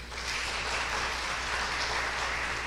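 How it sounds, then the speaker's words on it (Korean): Church congregation clapping during a deacon ordination service as a member comes forward, a dense, even wash of applause from a large room lasting the whole moment. "인사할 때 여러분 박수해 주시길 바랍니다."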